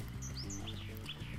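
Short, bright bird chirps from Spyro the Dragon, a handful of quick tweets sitting over steady low game music.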